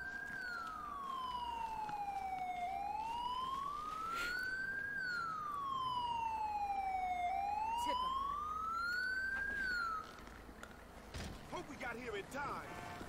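A wailing ambulance siren from the video game GTA 5 rises and falls in slow sweeps, loud and steady for about ten seconds, then gives way to quieter game noise and a brief burst of sound at the end.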